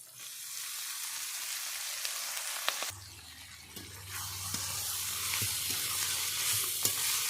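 Potatoes and fenugreek (methi) leaves fry in a pan with a steady broadband sizzle, a brief louder burst midway as the leaves go in, then continued frying with occasional stirring clinks.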